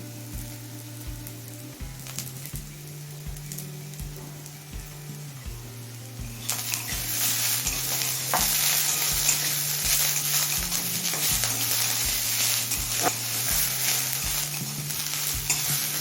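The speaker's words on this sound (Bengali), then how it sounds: "এবার কিছুটা দিচ্ছি স্প্রিং অনিয়ন কুচি" Chopped spring onion sizzles in a pan with potato and onion as it is stirred, a steady frying hiss with a rhythmic scraping of the spoon that grows louder and brighter partway through, with no talking.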